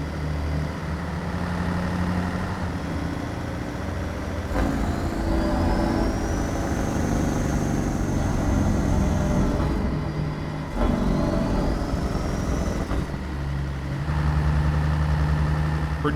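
A CAT 3406E truck in a driving video game with a Zeemods sound mod rumbles heavily, with stretches of harsh, throbbing engine-brake roar between gear shifts and a rising whine, loud and continuous.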